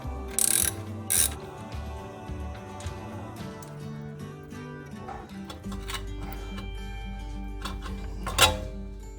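Metallic ratcheting and clanking of tools on a Toyota Prado 120's rear brakes as the caliper is unbolted, with a couple of sharp bursts early on and a steady low hum beneath the clicks.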